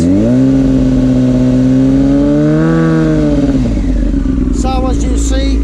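A Yamaha R6 sport motorcycle with a charging problem is revved on a stand, its engine note rising and falling through several throttle blips, loud and close, with a person talking near the end.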